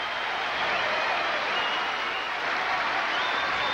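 Tennis crowd at the 1991 French Open cheering and applauding for Jimmy Connors before a fifth set, a dense, sustained wash of clapping and roaring from a large stadium audience, steady and loud throughout.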